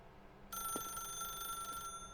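A telephone in The Stanley Parable video game rings with a steady, bright electronic tone that starts suddenly about half a second in and continues, fairly loud and close, with no voices.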